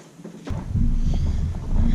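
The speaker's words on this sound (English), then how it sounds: "it is quite windy out here" Steady wind rumbles and buffets against the microphone, a low roaring gust that starts suddenly and continues throughout.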